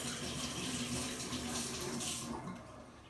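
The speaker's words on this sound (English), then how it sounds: "Let me wash my hands." Hands washed under a running kitchen tap, a steady close rush of water with splashing that eases off near the end.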